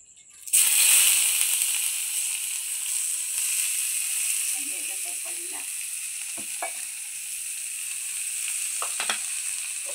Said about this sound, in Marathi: पहिलं तेलात कांदो सोडतोय.